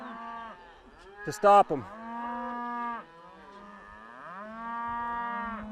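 A cow lets out several drawn-out moos, loud and close, while cattle are worked on horseback. Someone speaks briefly among the calls.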